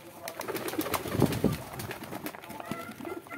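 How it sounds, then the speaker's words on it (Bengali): Domestic village pigeons coo softly and repeatedly while feeding on bottle gourd leaves, with low throaty calls close by and a brief flutter of wings amid faint background noise. "প্রত্যেকটা কবুতর চলে আসছে লাউয়ের পাতা খাওয়ার জন্য"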